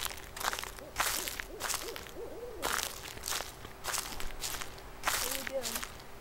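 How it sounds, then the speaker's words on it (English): Footsteps in the horror video game Slender, a steady run of soft thuds over a low ambient drone, mixed with owl-like hooting tones and bursts of nearby talk. "Oh man, I think I hear footsteps."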